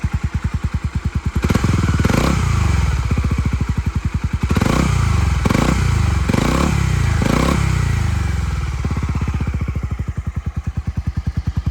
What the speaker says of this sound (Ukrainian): вихлоп не гучний, але дуже басистий, чистенький